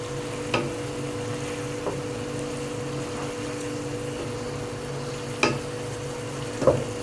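Liver sizzles and fries steadily in a pan while being cooked with garlic, making a constant crackling hiss with a few brief louder clinks and stirs and no talk.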